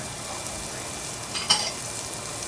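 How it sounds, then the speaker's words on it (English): Shallots frying in a pan give a steady soft sizzle, with one brief brighter crackle midway, quiet and close. "Nothing like the smell of shallots in a frying pan."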